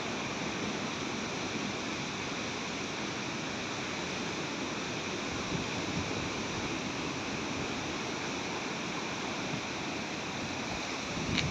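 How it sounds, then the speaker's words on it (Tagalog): Large ocean waves rolling onto a beach at a farm lot in General Nakar, Quezon, heard as a steady, broad roar of surf that stays even throughout. "Napakalalaki ng alon dito."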